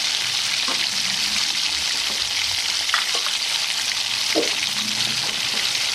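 Chopped onions and green chillies hiss steadily in hot oil, with a dense, even crackle close by and a few faint stirring taps.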